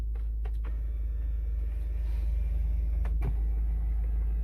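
Electric steering-column adjustment motor in a 2020 BMW 520d Luxury Line (G30) gives a faint, steady whir inside the cabin, riding over the constant low rumble of the idling diesel, with a couple of soft clicks.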